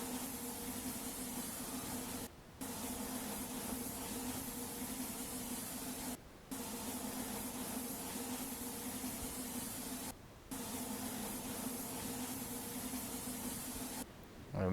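An airless paint spray gun on a paint spraying simulator hisses in long steady bursts, held about a foot from the wall, each pass broken by a brief silent pause between strokes.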